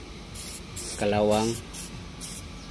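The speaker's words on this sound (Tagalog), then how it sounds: "spray muna natin ng WD-40 para lumambot po yung mga dumi" WD-40 lubricant sprayed into a door lock: several short, close hissing bursts repeat at a steady pace, with someone talking briefly in the middle.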